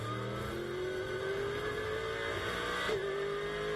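A GT race car at speed on the Magny-Cours circuit during qualifying, its engine note rising steadily, briefly dropping as it shifts gear, then climbing again, heard from onboard as a continuous moderate roar with no talking.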